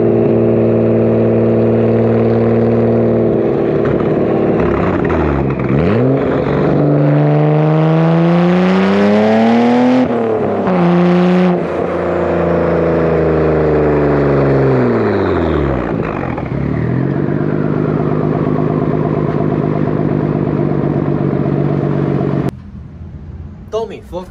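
A Nissan Skyline R32 GTR fitted with a Tomei exhaust revs hard close by, its loud engine note climbing and falling through several sweeping rev swings before cutting off suddenly near the end.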